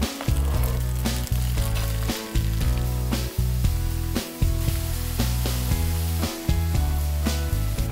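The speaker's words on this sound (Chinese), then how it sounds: "一面煎到定型就可以准备给它翻过来" Potato pancakes, oiled on the edges and cut into four pieces, pan-fry with a continuous bright sizzle over steady tonal background music.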